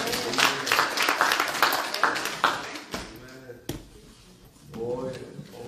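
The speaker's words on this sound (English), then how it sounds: "come on, let's give God a hand clap." A church congregation claps hands together for God, a burst of quick, rhythmic clapping that fades, followed by a sharp slam-like hit and a swell of crowd noise with voices in the background.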